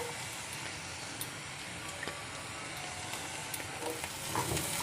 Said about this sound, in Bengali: ক্যাপসিকাম দিয়ে একটু নাড়িয়ে নেব।